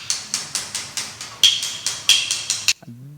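A hammer tapping wall or floor tiles to find hollow spots in the adhesive bed, about a dozen sharp, evenly spaced knocks with a slightly ringing, hollow tone, close and clear, ending in a short thud.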